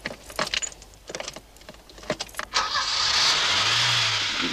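Car engine starting in a 1982 crime drama: a few clicks and rattling knocks come first, then the engine catches and settles into a steady, smooth idle close by, with no voices.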